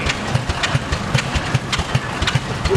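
A Waterloo Boy Model N tractor engine idles at a steam expo, with slow, evenly spaced low thumps about every 0.4 seconds, close and steady over a background of crowd and machinery noise.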